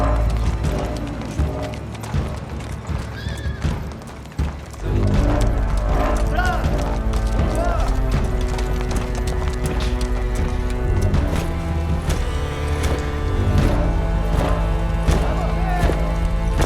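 Horse hooves clip-clop and a horse whinnies as film sound effects, set within a dense, continuous mix of music and other sound that stays loud throughout.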